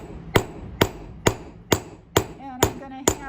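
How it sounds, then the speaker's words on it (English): Seven sharp, evenly spaced hammer blows ring out on hot metal as the end of a piece is forged flat, each strike loud and close with a brief metallic ring, the later ones carrying a faint pinging overtone. "I'm going to hammer it as evenly as possible."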